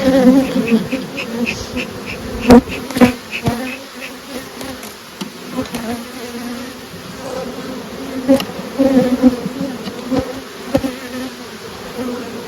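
Loud, close buzzing of many honeybees and drones around hive frames, swelling and fading as individual bees pass near, with occasional knocks and clicks.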